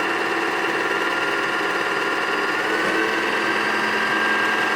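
A Singer sewing machine winds its bobbin with a steady, fairly faint high whirring hum that continues evenly without pause.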